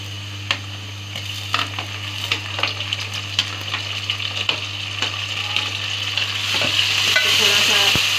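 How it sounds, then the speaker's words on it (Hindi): Garlic-ginger paste and four or five green chillies frying in hot oil for a potato-and-colocasia curry, stirred with repeated scraping clicks over a steady sizzle that swells louder toward the end; no talking. "अब इसमें ये लहसुन अदरक और हरी मिर्चें, ये चार पांच हरी मिर्चें हैं और एक टीस्पून लहसुन अदरक का पेस्ट है,"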